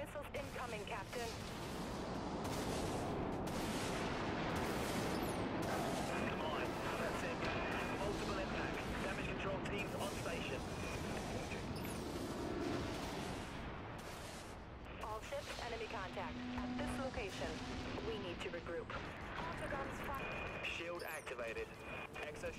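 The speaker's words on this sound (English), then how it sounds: "enemy missiles incoming" Explosive booms and artillery-like bursts from the naval space combat game Dreadnought, with missile impacts rumbling in a dense, continuous barrage, loud throughout and briefly easing midway before building again; a voice talks over it.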